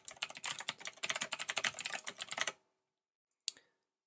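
Rapid typing on a computer keyboard, a dense run of clicking keystrokes for about two and a half seconds, then silence broken by one sharp final key press.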